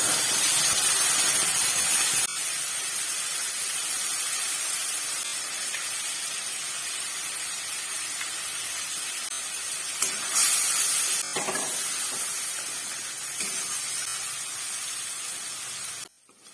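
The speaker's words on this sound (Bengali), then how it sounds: "মশলাটাকে ভালো করে ভাজতে লাগবো।" Onion and a ground spice paste with salt and turmeric frying in a pan for a tengra fish curry, giving a continuous soft, even hiss that runs without talk, with a few brief scraping touches.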